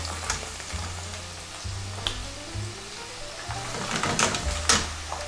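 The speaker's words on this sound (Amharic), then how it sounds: "ትልቅ ትልቁ ሽንኩርት ወስድና አንዴ እንደዚህ ንክር አድርጌ ጠብሰዋለሁ" Large onion pieces frying in a pan for goat clay-pot tibs sizzle loudly and steadily, with scraping and stirring clatter breaking through and a low hum running underneath.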